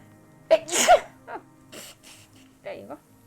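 A single close sneeze with a sharp inhale and burst, followed by softer breathy sounds and a brief vocal murmur, during play of Disco Elysium.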